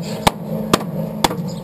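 Sharp metallic hammer blows on rusted rocker panel metal of a 1981 AMC Eagle, four strikes at a steady, slightly uneven pace over a constant low hum.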